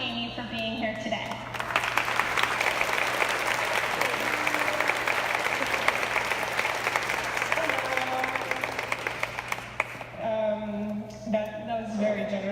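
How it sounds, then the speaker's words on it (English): An audience gives a warm welcome to a speaker at a talk on getting published. The applause is sustained and full for several seconds, then stops, and a voice starts speaking. "please welcome me with Amy with a warm applause"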